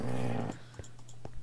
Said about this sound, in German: Dein Hund knurrt.